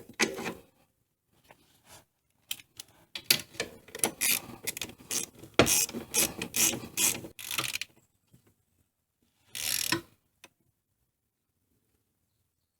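A ratchet tightens the shock bolt through the swing arm of a Honda Recon ATV rear end, giving quiet bursts of rapid clicking strokes with short pauses between them and a last brief burst after a gap.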